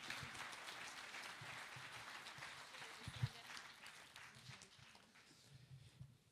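A church congregation applauds warmly, steady clapping from many hands filling a large room, while a voice speaks over it.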